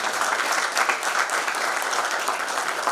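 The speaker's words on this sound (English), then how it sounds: "So round of applause for your presence here." Applause from the audience at a corporate HR conclave held at a university, a dense, steady patter of many hands clapping continuously throughout, fairly loud and without voices.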